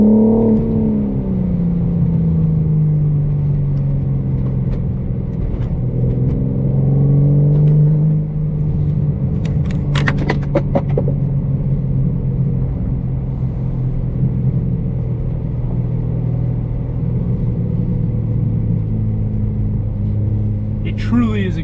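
A 2025 BMW M4 Competition xDrive coupe with 523 horsepower accelerates hard from 0 to 60, its loud engine droning and rising in pitch through several quick gear changes before settling into a steady, powerful roar.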